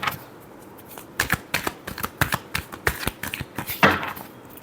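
Tarot cards being shuffled by hand, a quick run of crisp riffling flicks and soft slaps over a few seconds, close and fairly loud, ending with a final fuller burst, with no talking.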